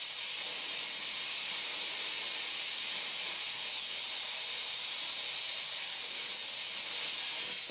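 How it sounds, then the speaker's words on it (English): A dental endodontic access bur cuts through metal and zirconium, giving a steady, high-pitched whine that holds without pause from start to finish and stands alone with no voices. "Notice how efficiently the instrument cuts the metal and zirconium."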